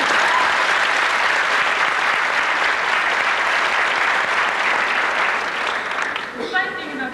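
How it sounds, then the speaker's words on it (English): A graduation crowd in 1990 gives a big, continuous round of applause, loud and dense for several seconds before thinning out as a voice begins speaking at the end. "he deserves a big round of applause"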